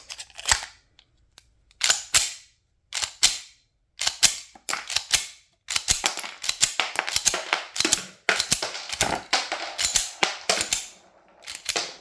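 Ammunition is cycled through Zastava M70AA pistol magazines, giving a series of sharp metallic clacks and snaps in irregular bursts, some single and some in quick runs, close and loud with short quiet gaps between actions.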